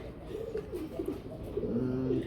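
Pigeons coo softly at a pigeon market, with low murmuring calls over a busy background and a little faint talk.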